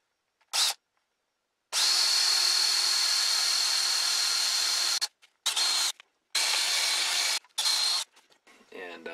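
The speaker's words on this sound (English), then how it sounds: "So that's the next step here, to drill a hole in the tang." A power drill whines while drilling a hole through a steel knife tang, in several bursts, one long run of about three seconds followed by shorter pulses, close and loud, with brief pauses between.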